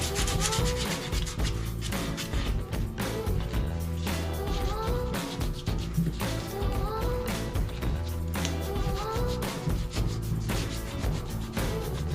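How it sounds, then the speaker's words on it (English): Sanding down rough welds on a mini chopper frame, a steady abrasive rubbing that runs close and loud without pause, with light tapping mixed in. "So what I'm trying to do is just sand it down, make a decent transition."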